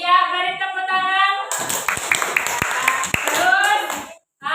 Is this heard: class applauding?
yes